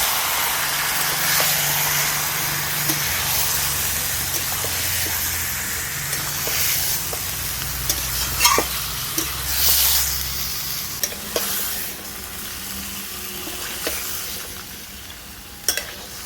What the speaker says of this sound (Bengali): দিয়ে দিচ্ছি ম্যারিনেট করে রাখা চিকেনটা। সব কিছু মিশিয়ে নেব।